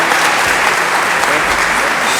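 Loud, close audience applause at an annual community partnership meeting, a brief dense burst of many hands clapping with no pause.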